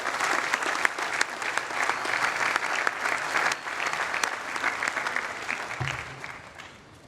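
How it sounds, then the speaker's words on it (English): A large crowd applauds the medalists at Harvard University's 2015 commencement afternoon exercises, with sustained dense clapping and sharp individual claps standing out, easing off toward the end. "Please join me in giving a round of applause to all of our Harvard medalists."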